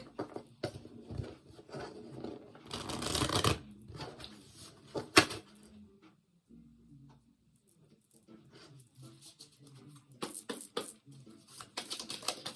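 Quick shuffling of a wellness card deck, bursts of papery riffling and flicking with soft taps and handling pauses between them, close and fairly quiet.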